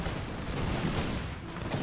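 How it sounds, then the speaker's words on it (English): Massed musket volley fire in an American Revolution video game: a dense, continuous crackle of overlapping shots, loud and close, filling the whole moment without any speech. "They all fire towards the cannon."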